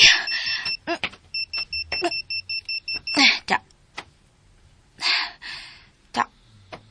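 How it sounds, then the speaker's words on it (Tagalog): A wall clock alarm in a bedroom gives a quick run of about eight sharp, even electronic beeps. Voices speak before and after the beeping. "Sabay nagpa-alarm sa wall clock din sa akong kwarto."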